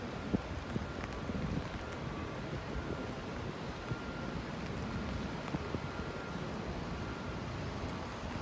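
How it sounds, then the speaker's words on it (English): Steady wind buffeting the microphone at the World Trade Center, a constant low rumble with occasional gusty thumps, no voices. "It's pretty windy."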